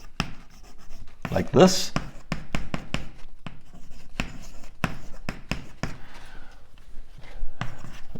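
Chalk tapping and scratching on a board while equations are written out in an advanced cosmology lecture, irregular close strokes and taps under a lecturer's speech.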